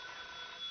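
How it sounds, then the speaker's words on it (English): Telephone bell ringing in an old comedy film, a short, faint, continuous burst of ringing with a thin, band-limited tone and no talking. "Answer the phone."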